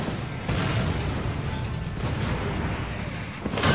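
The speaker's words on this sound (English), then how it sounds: "Rocket launchers." Rocket launchers fire in the fighting game Tekken 7, a dense rumbling barrage of blasts and crashes rolling continuously, with a sharper burst at the very end.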